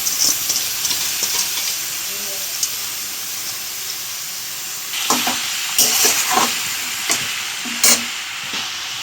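Cabbage with pumpkin and potato frying in a pan, a steady close hiss with scattered clinks and scrapes of stirring that grow busier toward the end.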